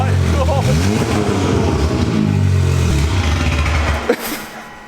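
An Audi S3 running with only the downpipe fitted and no exhaust roars loud and raw close by, a harsh droning rasp that holds for several seconds before a sharp pop and a quick drop as it shuts off.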